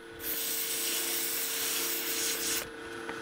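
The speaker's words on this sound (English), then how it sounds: "I'm going to use sandpaper, start sanding the middle, making sure it's flat." Steady, close scratchy rubbing of 150-grit sandpaper on solid maple for a few seconds, continuous and fairly loud, then stopping abruptly.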